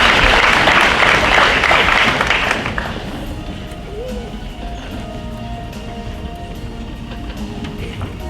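Honors night audience applause, dense clapping from a large crowd for a few seconds, then fading down to a quiet room hum with faint scattered sounds.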